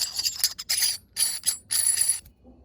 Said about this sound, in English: The X37 threads directly into the suppressor.